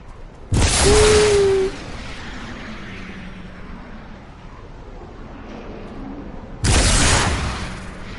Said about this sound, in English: That's a good way to set off a firework.